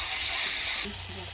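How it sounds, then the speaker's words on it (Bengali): Tomato and spice paste fries in a village-style chicken dish as it is stirred, giving a bright steady hiss that drops abruptly quieter partway through, with faint low clatter underneath. "এই দেখো টমেটোটা আমার এখন দিয়ে দিলাম, ভালো করে নেড়ে চেড়ে নেবো।"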